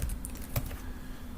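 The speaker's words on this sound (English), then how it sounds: "Now I'm typing in my" Close, steady clatter of keys on a computer keyboard as someone types, with no voices.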